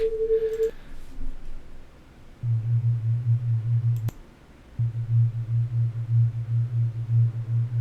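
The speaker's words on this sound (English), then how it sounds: "Just pure tones, slight wobbling modulation" A clean, minimal synth drone made in Surge XT: pure tones with a slight wobbling modulation, a brief higher tone first, then a low pulsing hum that cuts out once with a click and returns steadily.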